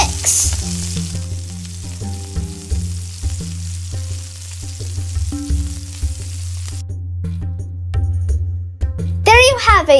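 Spices are stirred into cranberry pickle in a hot pan, a steady sizzle with scraping stirs, under soft background music that ends in a brief bright flourish.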